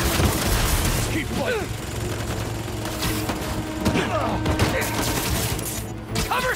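Gunfire from enemy soldiers in the video game Marvel's Spider-Man 2, heard as a dense, continuous fusillade of rapid shots with a low droning bed underneath and shouting voices mixed in.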